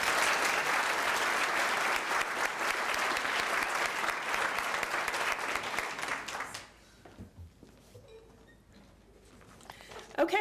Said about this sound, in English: Please give these folks another round of applause.